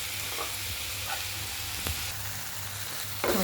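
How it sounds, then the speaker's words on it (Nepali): Chopped tomatoes fry in a pan for a jackfruit curry, giving a steady close sizzle throughout with a few faint stirring clinks and no talk. "अब एकछिन यसलाई फ्राई गर्छु अनि त्यस पछाडि हाल्छु।"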